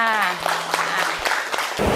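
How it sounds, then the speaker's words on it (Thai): Classmates clapping in a Thai primary school classroom, a short ragged burst of hand claps that starts right after a teacher's voice trails off and swells again at the end. "อาปรบมือให้เพื่อนหน่อยค่ะ"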